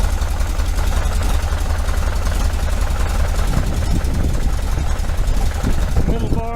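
A 1973 VW Super Beetle air-cooled engine with Dellorto FRD 34B carburetors idles steadily with a low, loud, even rumble and a rapid pulse, close by, with someone talking over it.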